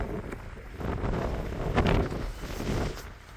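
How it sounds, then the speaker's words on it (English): Gusty wind blows outside a meetinghouse, a steady broadband rush that swells and surges in strong gusts against the microphone, loud and close throughout with no talking. "Ooh, that wind is blowing."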